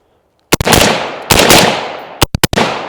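Rifle firing green tip 5.56 ammunition at an outdoor range, with sharp, loud, close reports: two single shots with long echoing decay, then a rapid cluster of three more.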